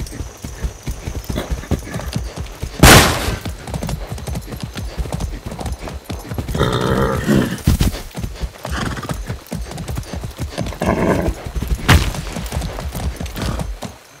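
Horse hooves clip-clopping steadily in the video game Far Cry 6, with loud whinnies and snorts breaking in at intervals over gunfire-like bursts; no speech heard.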